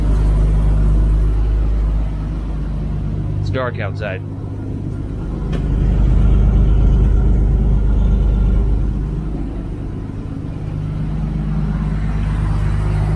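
A modified Toyota Land Cruiser with its catalytic converter removed idles with a deep, steady exhaust rumble, swelling slightly midway, while someone speaks briefly over it.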